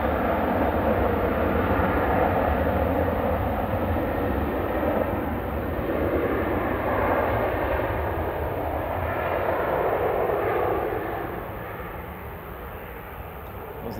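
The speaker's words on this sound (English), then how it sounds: "this is Ryanair up to Belfast, flight 191, GRUKC, Boeing 737-800" A Ryanair Boeing 737-800 jet bound for Belfast roars steadily at Manchester Airport, a loud broadband engine rumble that holds for most of the stretch before easing slightly toward the end.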